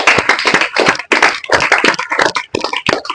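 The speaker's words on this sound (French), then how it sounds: "Est-ce qu'on peut acclamer très très fort?" A crowd claps and cheers loudly at a Shabbat opening gathering, in dense, rapid bursts with brief gaps, the applause filling the space close by.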